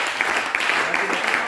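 A church congregation applauds during a French-language worship service, a continuous wash of clapping that stays steady and fairly loud for the whole moment, with voices mixed in.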